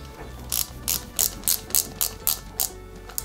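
A screw being tightened on an Ecto-1 model kit build, a rapid series of about ten crisp ratcheting clicks close by, evenly spaced, with no voices.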